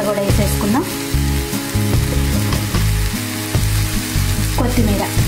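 Cumin seeds and tomatoes fry together in a pan for spinach chutney, a loud, continuous crackling sizzle punctuated by scraping stirs and clinks of a utensil.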